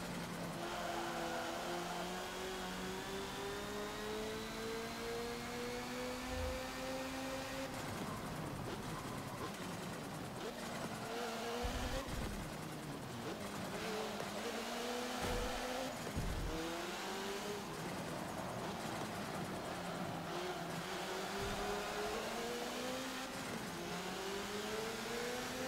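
A high-revving rally car engine in the Forza Motorsport 7 racing game screams through rising and falling gear changes, with sustained loud revs, brief drops between shifts and occasional tire noise.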